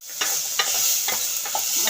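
Masala of chilli, coriander and black pepper powder is stirred in a hot frying pan for chicken biryani: a steady sizzle with a few regular, distinct scraping strokes running through it, close and fairly loud, no voices.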